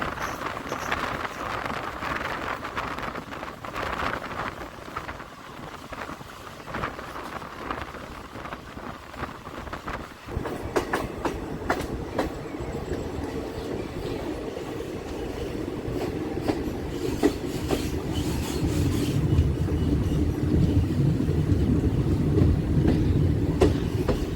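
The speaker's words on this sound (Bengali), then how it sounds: "ট্রেন বেশ ভালো টানছে" The Deoghar–Howrah Mayurakshi Express runs steadily on rails at dawn, a continuous rumble with rhythmic clickety-clack from the wheels that grows louder and heavier in the second half.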